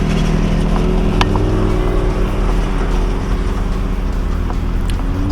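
ATVs cruising past on an off-road trail at Hungry Valley SVRA park, heard as a steady, loud engine drone close to the microphone, holding a constant hum with little change.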